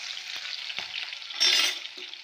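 Green chilies, curry leaves and ginger-garlic paste frying in hot oil for a pulimunchi dish, a steady close sizzle with a louder hiss burst midway and faint stirring scrapes.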